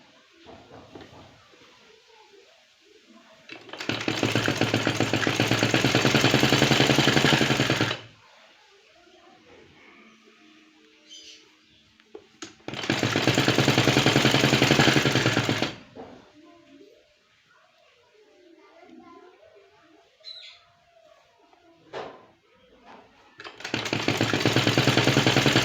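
An electric sewing machine stitching fabric sleeves runs in three loud, steady bursts of several seconds each, separated by quieter stretches of handling noise and small clicks.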